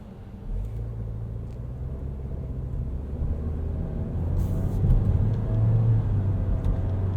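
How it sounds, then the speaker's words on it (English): A 2022 Nissan Kicks SR with a CVT heard from inside while driving, a steady low engine drone and road rumble that swells slightly partway through as simulated shifts step the pitch, no speech. "You can see we get a few simulated shifts here from this CVT."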